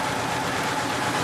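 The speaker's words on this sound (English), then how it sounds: "That generator goes all the time." A boat's generator drones on continuously, a steady low engine rumble with no breaks, close and moderately loud.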